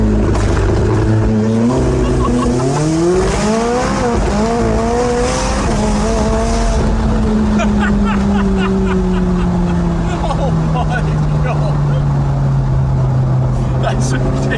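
McLaren 675LT launching under launch control, the twin-turbo engine roaring loud and close as it climbs through several upshifts with rising sweeps, then a sustained run at high speed with crackles and pops, under occasional talking.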